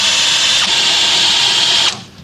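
A battery-powered electric drill whines loud and close aboard a boat, holding one steady pitch for about two seconds before it cuts off abruptly.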